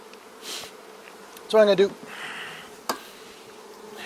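A steady, faint insect drone from bees in a small nucleus hive with a low population, running under a man's speech and a few handling knocks.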